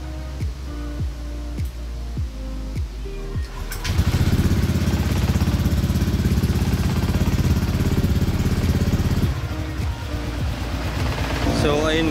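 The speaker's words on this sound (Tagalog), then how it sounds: "pwede nang i-idle or ipainitin yung motor." A Honda Click V3 scooter fitted with an Apido V4 power pipe exhaust starts up and idles loudly with a steady engine drone, after a few seconds of clicks and handling noises, with talk nearby.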